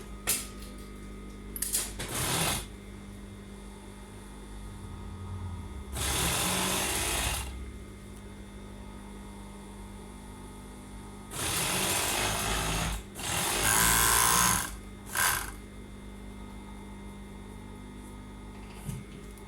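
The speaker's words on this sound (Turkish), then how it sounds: "Evet şimdi diğer ağımızı dikiyoruz." A sewing machine stitching pajama fabric runs in several separate bursts, a close rapid mechanical whirr that starts and stops between quiet pauses.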